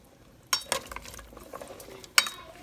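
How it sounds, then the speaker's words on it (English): A spoon stirs a rice dish in a pot: a few soft, scattered scrapes and clicks against the pot, faint and close, with no talking. "Okay guys, so we're just going to stir it up now."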